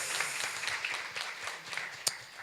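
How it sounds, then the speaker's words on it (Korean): Audience applause at a burn-care conference Q&A session in Korea, steady crowd clapping with scattered sharper individual claps, one standing out near the end. "여러분 다시 한번 큰 박수 부탁드리겠습니다"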